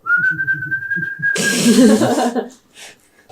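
A person whistles one long, steady, slightly rising note for over a second, then a burst of loud rustling and laughter-like noise follows, with softer sounds trailing off.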